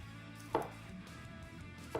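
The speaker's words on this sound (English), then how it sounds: "So we're going to slice it nice, thin." A kitchen knife slices garlic thinly on a cutting board for a garlic butter sauce, two crisp, separate cuts spaced well apart over a low background hum.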